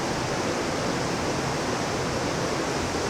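A powerful waterfall cascades over rocks on the Little Patuxent River in Maryland, a dense, steady roar of rushing water filling the whole sound, unbroken and close.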